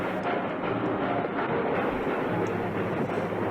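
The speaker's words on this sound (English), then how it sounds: "It's an awfully short train." A short train rumbles past in an old film, a steady low clattering roar of rail cars that holds evenly at moderate volume.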